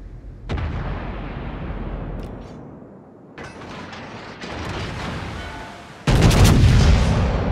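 Naval guns of the USS North Carolina battleship fire in the World of Warships game, heavy booming salvos with long rumbling tails, the loudest blast arriving near the end.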